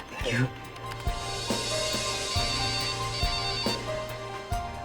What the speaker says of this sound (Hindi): सर आपका मोबाइल बज रहा है क्या?